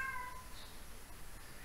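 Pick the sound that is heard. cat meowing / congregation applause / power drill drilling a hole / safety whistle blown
cat meowing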